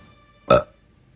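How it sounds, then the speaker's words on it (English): A single short, loud burp, close up, in an otherwise quiet moment. "I'm sorry, I burped."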